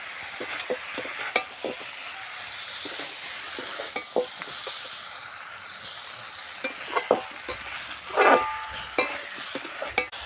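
Masala sizzling and frying in a pan for muri ghonto while a spatula stirs and scrapes against the metal in irregular bursts, with a louder scraping flurry near the end.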